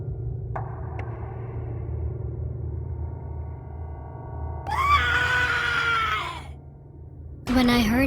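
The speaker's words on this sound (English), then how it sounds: "When I heard his scream" A drawn-out, high-pitched scream effect for a graveyard horror story rises loudly out of a dark, low droning background, and a second sharp cry bursts in at the very end.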